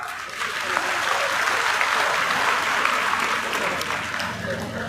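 A political rally crowd in Haryana breaks into loud, sustained applause, dense clapping filling the whole stretch without pause.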